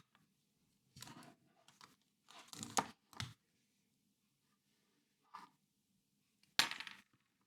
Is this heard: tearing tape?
yes